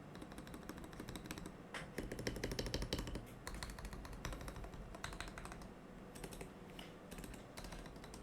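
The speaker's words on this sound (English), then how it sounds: "So so yeah, the sound of the keyboard." Computer keyboard typing clatters in dense, continuous bursts of key clicks, fairly quiet and close, with brief denser flurries and short pauses, no talk over it.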